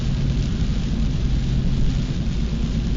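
Steady, dense rain pours across a mountain landscape, a continuous close wash of noise over a heavy low rumble that never lets up for the whole stretch, with no voices.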